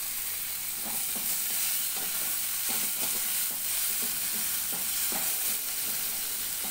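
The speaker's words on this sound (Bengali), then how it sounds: "এদিকে আমার ফুলকপিটাও ভাজা হয়ে যাচ্ছে" Cauliflower pieces fry in a pan for bhuna khichuri, a steady close sizzle broken by repeated soft scrapes and clicks of stirring, with no voices.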